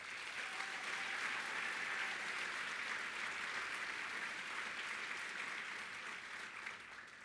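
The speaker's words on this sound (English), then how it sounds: "Please also give them a round of applause." Sustained audience applause at a bowling association's annual convention meeting, a dense even wash of many hands clapping throughout, slightly fading near the end.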